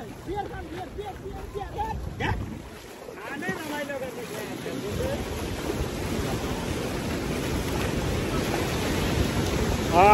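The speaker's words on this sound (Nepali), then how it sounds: "यसरी छाल हान्छन् बाप है" Ocean waves roll in and break nearby, a swelling roar of surf with wind buffeting the microphone, while people's voices come and go over it.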